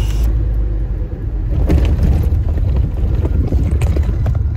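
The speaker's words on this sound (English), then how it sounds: "But my poor car, all these potholes." A car rumbles over potholed town-centre streets in Lytham, a loud continuous low droning rumble with occasional bumps and thuds, heard from inside the vehicle without talk.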